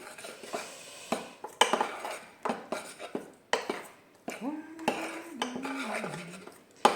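A spoon clinks and scrapes repeatedly against a bowl as a stiff, hard-to-blend sweet mixture is stirred, irregular close knocks with a short hum of voice partway through.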